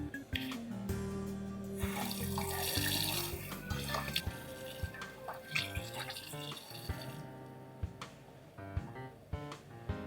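Tap water runs steadily into a sink while someone washes their face during a wet-shaving routine. The flow and splashing sound close and continuous, with shifting splashes and no talking.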